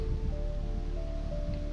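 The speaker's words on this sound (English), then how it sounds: "kind of windy, right?" Outdoor wind buffeting a handheld phone mic, a low rumbling roar with steady gusty texture, close and fairly loud, no talking.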